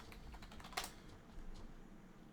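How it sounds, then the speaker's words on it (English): A few quiet, close keystrokes tapped on a computer keyboard, faint and brief against low background hum. "I'm just going to type leave me alone as well."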